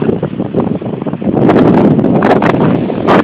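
Strong wind at Cocoa Beach, Florida, roars and buffets the microphone in loud, continuous gusts that swell toward the end.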